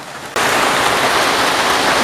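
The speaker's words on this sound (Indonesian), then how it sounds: "Sambil menunggu hujan reda, ditemani oleh nyanyian hujan ya kan." Heavy rain falls steadily, a loud, dense hiss that starts abruptly and then continues without a break.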